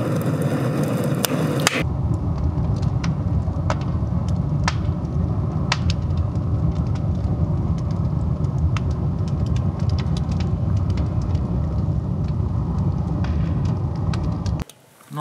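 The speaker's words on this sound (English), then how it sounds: "it looks like the wood gas is started to burn. You can actually hear it." Wood gas burns in a homemade charcoal retort with a steady, close roaring rumble, broken by scattered sharp pops and crackles, before cutting off abruptly near the end.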